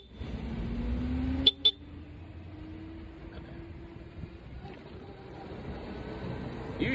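Two short car horn honks sound in quick succession amid a steady rumble of city traffic, heard from a moving electric motorcycle among mopeds.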